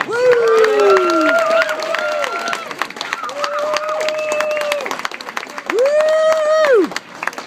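A crowd applauds and cheers for a performer at a live show, continuous clapping under loud whoops and shouted voices.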